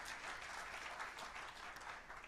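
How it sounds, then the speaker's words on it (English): Continuous audience applause at a tech challenge awards ceremony, steady and fairly distant, filling the whole stretch without pause. "let's give them a round of applause"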